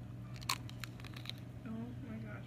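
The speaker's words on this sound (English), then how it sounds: "Listen to the crunch." Biting into a large chocolate covered strawberry, a few sharp close crunches near the start followed by softer chewing, with a voice murmuring toward the end over a low steady hum.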